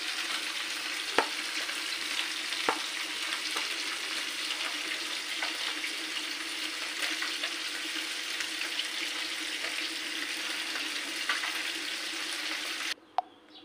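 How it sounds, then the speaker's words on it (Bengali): Small chela fish frying in hot oil in a home kitchen, giving a continuous bright sizzle at moderate level with a few brisk clinks of a utensil, ending with a sharp knock. "তার জন্য দুইবার দিয়ে মাছটা ভাজা দেবো"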